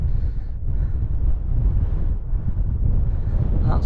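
Strong wind gusting steadily across an open fell summit at Wandope, a continuous loud rumbling roar buffeting the microphone with no voices.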